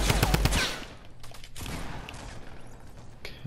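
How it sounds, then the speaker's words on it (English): A Tommy gun or drum gun in the video game Fortnite fires a rapid burst of close, loud shots, followed by scattered mechanical clicks and quieter pops. "we got the Tommy gun here, or the drum gun, say. We'll see how well the sucker works"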